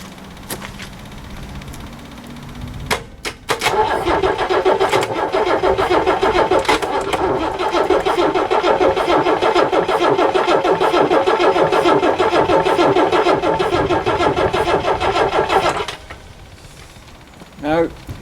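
A diesel engine with a rotary CAV injection pump cranks over on the starter for about twelve seconds in a steady, loud rhythmic churn without catching, then stops; a few faint clicks before and after.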